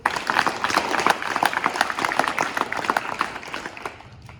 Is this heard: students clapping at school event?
yes